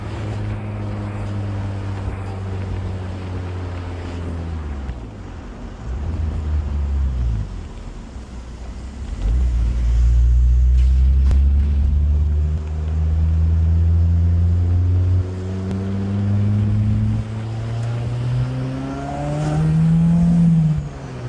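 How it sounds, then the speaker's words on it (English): A turbocharged 2005 Honda S2000 running on E85 accelerates hard through several gears, its engine note climbing and dropping between shifts with a prominent turbo whoosh over the drone, no voices present. "You don't hear the exhaust, you hear that nice good turbo sound that everyone loves."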